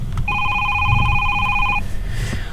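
Telephone ringing in the horror game Is Simon there?, a single sustained electronic ring with a steady two-tone warble, loud and close for about a second and a half before cutting off.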